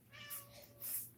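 A farm cat gives a short, close meow that rises and falls over about a second, heard alone without talk.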